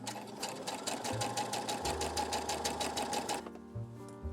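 A sewing machine runs a test rolled hem, a rapid, even, close-up needle chatter at a steady pace for a few seconds before the motor stops and a faint hum remains.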